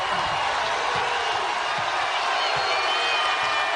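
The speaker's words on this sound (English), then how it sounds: "Crowd on its feet here at Target Center." A basketball arena crowd at Target Center roars and cheers steadily during a Big Ten women's tournament semifinal, a dense, loud wash of noise with no distinct breaks.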